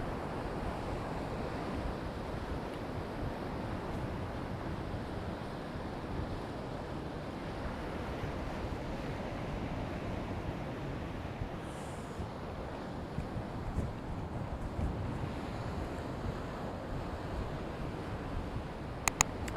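Sea waves break on a beach at Easington on England's east coast, a continuous broad wash of surf with wind noise, fairly soft and steady for about twenty seconds, with no one speaking.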